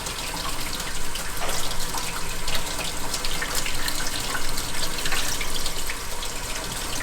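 Tap water running steadily while ink is washed off a drawing during a wash-off drawing process, a continuous close splashing rush with slight surges and flickers, loud and unbroken, no talking.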